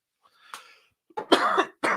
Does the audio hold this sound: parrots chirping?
no